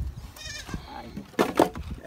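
Goats in a fenced pasture bleat, with two quavering calls close by near the end and fainter bleats earlier, over rustling and outdoor noise.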